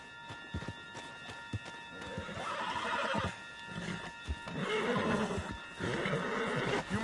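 In Red Dead Redemption 2, a horse gives a loud whinny while its hooves clop and thud in an uneven rhythm, then a second burst of neighing and hoofbeats follows. The sound is close with no speech.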